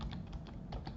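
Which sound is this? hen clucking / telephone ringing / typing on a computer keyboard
typing on a computer keyboard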